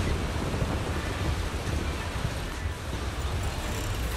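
Heavy rain in the video game Zenless Zone Zero pours as a dense, steady wash of noise, loud and unbroken, with a low rumble beneath it throughout.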